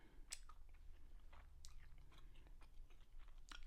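Chewing on a small piece of candied sweet and spicy bacon jerby, with close, quiet, irregular moist chews and a few faint crunchy bites, no talking.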